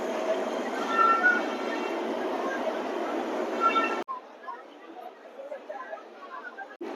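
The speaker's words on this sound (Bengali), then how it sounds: "অবশেষে অমৃতসর মেল হাওড়া স্টেশনে ঢুকছে" The Amritsar Mail passenger train rolls into Howrah station with a steady rumble and faint wheel squeal, then the sound drops to quieter station ambience with scattered noises.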